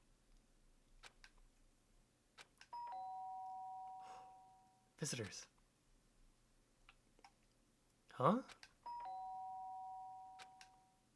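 Doorbell chimes in the Danganronpa video game, two-tone rings repeated a few times with short gaps, along with clicks and brief game sound effects; a voice speaks briefly in between.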